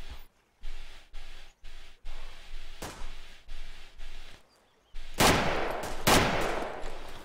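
Gunfire in the video game DayZ near a bridge in Podagorsk: a string of sharp shots at a steady rhythm, followed by two louder, closer cracks with ringing tails.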